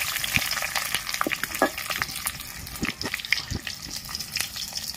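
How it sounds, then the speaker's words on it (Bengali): Papad fries in hot mustard oil, a steady, close bubbling sizzle with scattered crackles and pops that runs the whole time without any voices. "পাঁপড়গুলোকে খুব ভালো করে আমি ভেজে তুলে নেব প্রথমে।"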